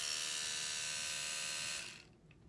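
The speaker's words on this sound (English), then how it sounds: "Electrical toothbrush." An Oral-B electric toothbrush running close by with a steady high-pitched buzzing whine that holds level for nearly two seconds and then cuts off, leaving faint room noise.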